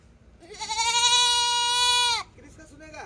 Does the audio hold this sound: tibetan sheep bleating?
yes